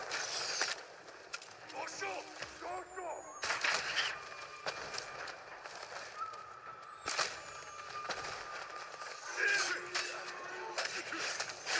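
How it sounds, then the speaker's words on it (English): Fireworks fired at the player in Ghost of Tsushima: sharp bursts and whistling streaks go off in a loose series of blasts amid game noise, while a voice talks in between. "They're shooting fireworks at you."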